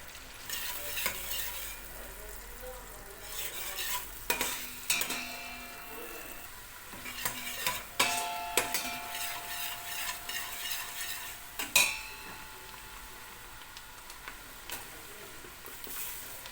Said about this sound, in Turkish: Soğan iyice kavrulsun. Tereyağı da sapsarı tam mayıs ya.